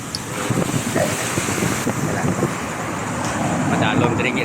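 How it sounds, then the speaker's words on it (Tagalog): Sea surf washes steadily against a rocky shoreline, a constant broadband roar with gusts of wind buffeting the microphone, close and fairly loud, with faint voices mixed in. "Ari na medyo may abanado na diri nga area sa dagat."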